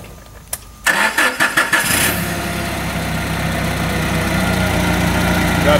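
Nissan propane engine of a 2015 Unicarrier CFS60 6,000-pound cushion-tire forklift starting: a brief rhythmic cranking chug, then it catches and settles into a steady, loud, close idle.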